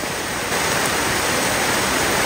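Steady, heavy rain pours down in an unbroken broadband rush, loud and close, with no voices or other sounds breaking through.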